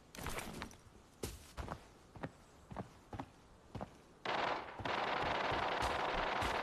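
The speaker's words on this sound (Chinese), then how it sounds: "其他的枪声都在远处的房子里" Distant gunshots ring out in the video game Arena Breakout, a string of about ten separate sharp cracks spaced roughly half a second apart, followed by a sudden loud rushing noise.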